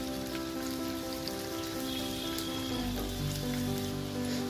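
Ginger, green chili and tomato paste sauté in hot oil with a soft, steady sizzle and crackle, fairly quiet and uninterrupted throughout.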